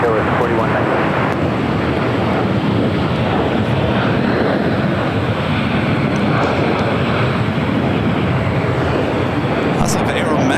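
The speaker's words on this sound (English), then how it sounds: "United Airlines Flight 32 heading to Tokyo Narita. It's a 787-9 Dreamliner. Be the next heavy takeoff here on the south side." Heavy Boeing 787-9 Dreamliner jet taking off from the south side at LAX, heard as a loud, continuous broadband engine roar mixed with wind buffeting, steady throughout.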